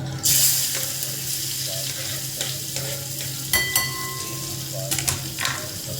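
Asafoetida and chopped onion sizzle in hot oil in a home kitchen, a steady frying hiss with occasional stirring clinks and scrapes, close and moderately loud, with no talking.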